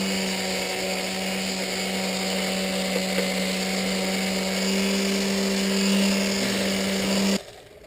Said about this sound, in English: So what we got to do now is just sand these down nice.